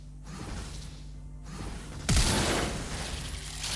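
The firework-themed Jinx costume's W ability in the mobile game Wild Rift fires with a sudden crackling blast over a steady whirring game background, then settles into a noisy sizzle.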